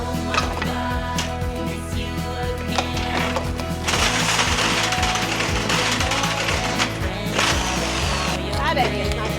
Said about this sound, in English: now we just unscrew all the screws holding this frame in